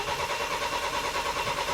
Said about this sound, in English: So Abraham, you're gonna go to the driver's seat and crank the engine.